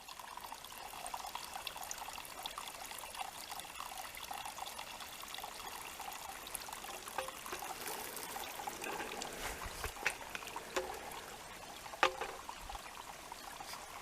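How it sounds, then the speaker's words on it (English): Spring water flowing out of a mountainside and trickling down over rocks in Shenandoah National Park, a steady quiet babbling trickle with small splashes, heard alone and fairly close. "Up there's the where the water comes out of the mountain, and it's trickling down through all these rocks."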